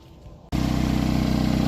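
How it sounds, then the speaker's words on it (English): A 2.4-litre Chevy Equinox engine with a cracked exhaust manifold starts up after half a second of quiet, then runs at a steady, loud idle with a pulsing, ticking exhaust note. "So exhaust manifold has a crack. That's why it's still making that loud noise."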